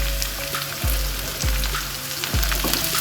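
Onions with curry leaves sauté in a pan for a kovakka dish, giving a loud, continuous sizzle broken by three dull, low knocks spaced about half a second apart.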